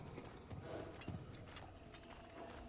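Horse hooves clip-clopping in the video game God of War Ragnarök, a handful of faint, uneven thuds over a soft mechanical background.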